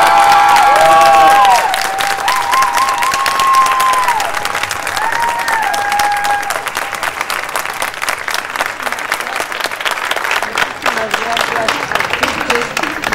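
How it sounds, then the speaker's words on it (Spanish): Applause and cheering from a theater audience after a play at UNAM, loud continuous clapping filling the whole stretch, with voices talking over it early on and some shouts later. "Queremos pedir un fuerte aplauso para nuestra directora."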